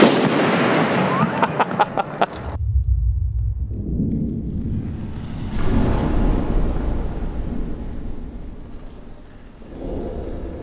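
A gun is fired during slow-motion filming of bullet shockwaves: one loud, sharp report rings with a crackling tail for about two seconds, then low rumbling swells fade in and out.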